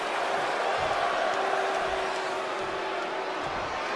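Steady arena crowd roar from WWE 2K20 at a Money in the Bank pay-per-view, a continuous dense wash of murmur and distant cheering that holds at an even level throughout, with no distinct voices standing out.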